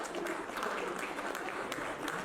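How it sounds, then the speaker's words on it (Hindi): Audience applause at the Paralympic Team India jersey launch event in New Delhi, a steady wash of clapping from a crowd filling the whole short stretch at an even level. "एक बार जरा जोरदार तालियां हो जाए।"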